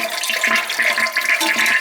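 A toilet at a winterized summer home flushes, close and loud, a steady gurgling rush of water filling the short span, with a leaking gasket between tank and bowl.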